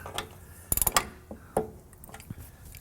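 A ratchet tightens the leaf spring shackle bolts on a Camaro, with a quick run of clicking strokes, a pause, then a few more scattered clicks and metallic taps at close range.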